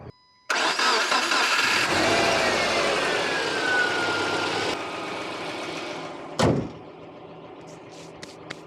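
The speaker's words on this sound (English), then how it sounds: "Do you want to start the car?" A car engine cranks and catches after a battery jump-start with the gearbox in neutral, then roars loudly and settles into a steady idle. A door thuds shut late on, and the engine keeps running quietly.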